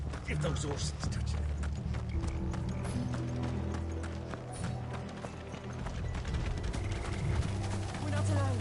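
Horses gallop in a video game with a steady, rapid clip-clop of hooves, a continuous rumble under voices and background sound.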